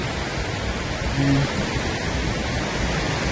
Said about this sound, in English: This is the Lower Reed waterfalls in Skagway.